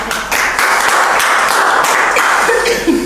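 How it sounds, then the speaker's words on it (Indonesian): Dense, continuous clapping from a crowd, steady and loud throughout. "Wow, tepuk tangan dulu dong."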